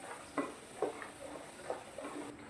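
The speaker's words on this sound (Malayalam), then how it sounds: "കായ മൂത്ത് വരുന്നതിൻ്റെ നല്ലൊരു സൗണ്ട് കേൾക്കാം." Raw banana slices deep-fry in hot oil for Kerala-style chips, a faint, steady sizzle broken by a few soft stirring taps and bubbling pops.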